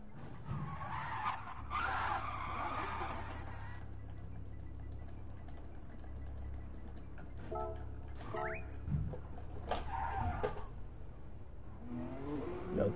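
Race cars in GT Sport skid and squeal their tires with engine revving, a continuous low drone broken by sharp screeches, heard at moderate, somewhat distant level.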